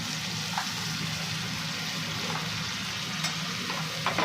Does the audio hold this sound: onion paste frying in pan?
yes